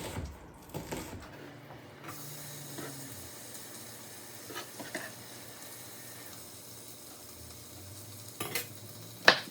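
Onion cooking in butter in a pan gives a soft, steady sizzle throughout, with occasional stirring and light clinks of a utensil against the pan and one sharper knock near the end; no one speaks.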